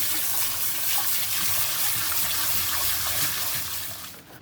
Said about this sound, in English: make sure you rinse them with cold water to get all the starch off